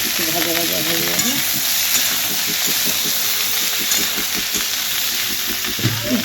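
Spices and okra with salt, turmeric, red chilli and cumin powder frying in a pan, giving a steady close sizzle throughout with a continuous bright hiss.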